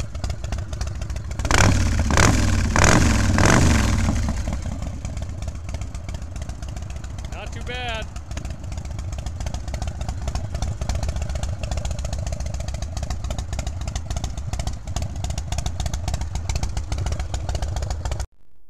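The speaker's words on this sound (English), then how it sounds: "All right, I needed both hands to start the sucker, gas and that, so got her started up." A 2003 SPCNS chopper motorcycle with a 100-cubic-inch engine and a big cam runs loudly up close, with a few sharp revs early on, then settles into a steady, lumpy idle for the rest of the clip.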